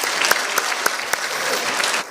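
A church congregation at a Friday worship service claps together, a close, lively burst of many hands with a few sharper individual claps standing out, easing off at the end.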